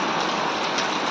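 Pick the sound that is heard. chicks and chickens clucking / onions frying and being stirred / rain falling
rain falling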